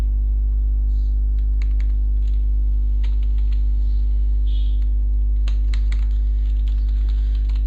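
Computer keyboard typing in a word processor, scattered light key clicks in short irregular runs over a constant loud mains hum, with no talking.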